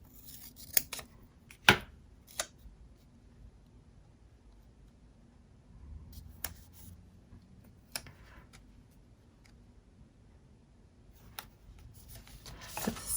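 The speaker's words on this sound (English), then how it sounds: "make your own like washi by just trimming down the stickers, just cutting them up a little bit" Scissors trimming down planner stickers, with a series of sharp, isolated snips spaced irregularly apart in a quiet room, some crisp and close, with soft rustling of paper in between.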